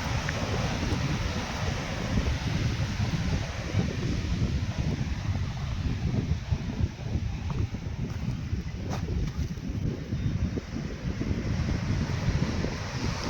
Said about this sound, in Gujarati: આ દરિયાની લહેર આવે છે જો સામે